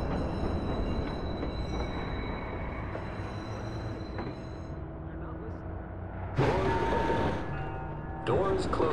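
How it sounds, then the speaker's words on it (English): In the video game Watch Dogs, an L train on the Red Line rumbles steadily into a station, with a low continuous roar and a brief squeal of wheels, followed by bursts of brighter hissing near the end. "Northbound train arriving shortly."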